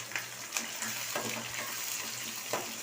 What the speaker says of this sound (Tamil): இதை வதக்கி விட்டுக்குவோம்.